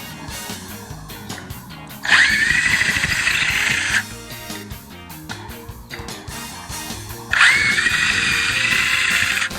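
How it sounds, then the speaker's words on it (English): A small battery-operated drill bores holes into a boat hull while an anchor system is fitted, two loud steady whining bursts of about two seconds each, close up, separated by quieter handling noise. "A little battery operated drill here."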